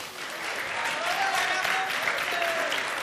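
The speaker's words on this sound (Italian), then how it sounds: "un altro applauso" Audience applause at a live Italian science event, steady dense clapping from a crowd filling the room, with a faint tonal whistle or feedback line running through it.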